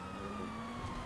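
A police car siren wails in a video game chase, a steady droning tone with sustained pitch heard close and loud over engine rumble.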